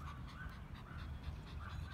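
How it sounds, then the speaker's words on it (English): A small neighborhood dog pants and gives a faint whimper at a distance during an outdoor walk, heard steadily under light background noise. "That is actually the only dog in the neighborhood"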